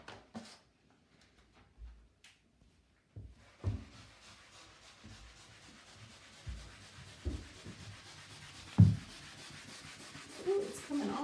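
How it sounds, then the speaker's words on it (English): Shower surface scrubbed with a magic eraser, soft close rubbing strokes in short irregular bursts separated by quiet gaps, with occasional knocks. "I'm just gonna take the magic eraser and get to scrubbing."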